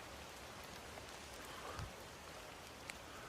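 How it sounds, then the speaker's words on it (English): Rain falls steadily around Ladybower reservoir on a wet, windy walk, a faint, even hiss of drops with no voices. "It just hasn't stopped raining all day."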